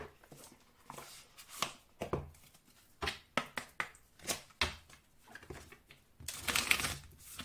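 Oracle cards handled and drawn from a deck in a quiet room: a run of soft, quick taps, shuffles and slides, ending in a slightly louder rustle.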